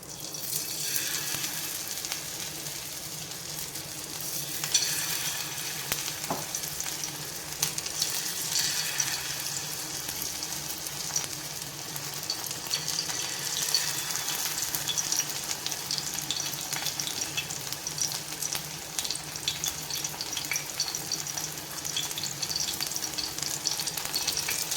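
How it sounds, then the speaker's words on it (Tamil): Sardines, coated in masala, fry in groundnut oil on a dosa pan with a steady, close sizzle and crackle that holds for the whole stretch, with no talking. "இப்போ மீன் பொரிக்கிறதுக்கு தோசைக்கல்லில் 3 டேபிள் ஸ்பூன் கடலை எண்ணெய் ஊற்றிருக்கேன்."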